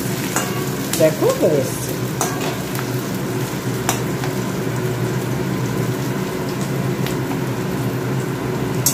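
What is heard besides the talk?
frying spices in a pan for mutton curry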